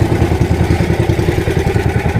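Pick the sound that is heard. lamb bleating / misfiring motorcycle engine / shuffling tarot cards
misfiring motorcycle engine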